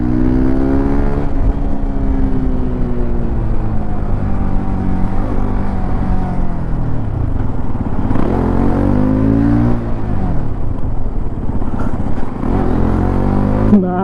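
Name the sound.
Hero XPulse 210 motorcycle riding off-road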